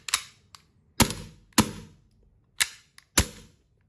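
The stiff slide of a BB gun is racked by hand, giving a series of sharp, close mechanical clacks spaced about half a second apart, with quiet between them.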